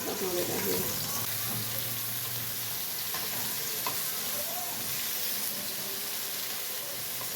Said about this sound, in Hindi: तो करेले को फ्राई कर लेंगे।